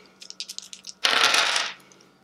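Three plastic dice drawn from a cloth bag: light small clicks of fingers rummaging, then a single louder rustling clatter of about a second before it settles.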